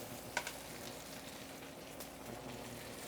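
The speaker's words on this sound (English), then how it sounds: "I'm gonna sear off the sides here." Duck breast searing in a pan on its sides, a quiet steady sizzle of hot fat with a faint click near the start and no talking.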